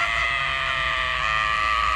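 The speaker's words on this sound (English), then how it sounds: "Did you have to yell in his ear?" A person yelling straight into someone's ear, a loud, close, sustained shout lasting about two seconds.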